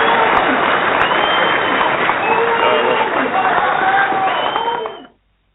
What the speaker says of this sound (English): give you a round of applause and thank you so much